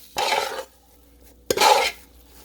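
Locust beans (iru) are stirred into ogbono soup in a pot: two distinct wet scraping stirs, each about half a second long, close and clear with a quiet pause between.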